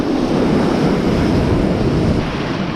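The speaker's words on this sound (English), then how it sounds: "the crushing waves" Heavy sea swell crashes and surges against a UK shoreline during a bass fishing session, a loud, steady wash of surf with wind buffeting the microphone throughout and no voices.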